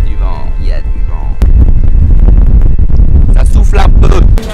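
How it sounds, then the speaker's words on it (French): Wind gusting across a microphone at a Caribbean dive site on Saba, a loud, steady rumble that strengthens halfway through, with someone talking over it at the start. "Il y a du vent, il y a du vent."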